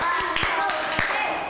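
A group of young children clap in unison during a classroom movement game, a few sharp slaps standing out over a busy room with an adult's voice in the background.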